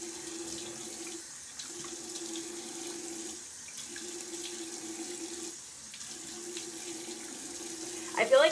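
Water runs steadily from a tap into a sink while someone rinses their face, a close continuous splashing flow with brief dips and a faint voice near the end.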